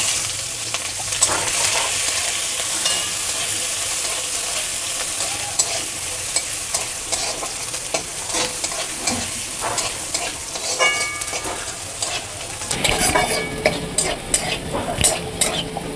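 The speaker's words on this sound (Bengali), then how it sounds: "দেখুন আমার পেঁয়াজটা ভাজা হয়ে গেছে।" Chopped onions fry in oil for a potato dum dish, giving a steady close sizzle broken by repeated scraping and clattering as a spoon stirs the pan, with sharper, busier stirring near the end.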